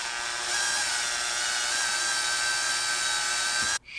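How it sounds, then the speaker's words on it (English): A power drill bores steadily into the wooden body of a Schecter Sun Valley Super Shredder electric guitar, a continuous high whine held for nearly four seconds before cutting off abruptly. "Oh, drilling into a guitar."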